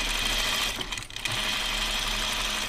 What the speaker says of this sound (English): Doing inseam pockets with serging is so nice and easy though.